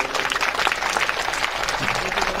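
Applause welcoming a guest at a school annual function: steady, dense clapping from an audience that fills the whole stretch at an even, moderately loud level.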